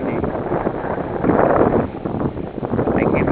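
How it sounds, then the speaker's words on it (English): Strong wind gusts across a lake in the Boundary Waters wilderness, buffeting the microphone with a loud, continuous rumbling roar that swells and eases in waves, with no talking. "It got so windy."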